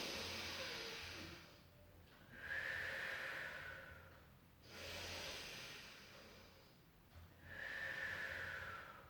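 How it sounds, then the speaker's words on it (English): Slow, deep breaths during a Pilates session, close and airy with a hissing quality, each inhale swelling and fading in a steady rhythm, about three breaths heard alone. "Take a breath in."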